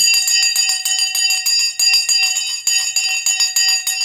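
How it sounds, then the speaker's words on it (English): A bell rings loudly and repeatedly in rapid, rhythmic strikes, bright metallic tones sustained without pause, with no talk over it. "The bell has gone."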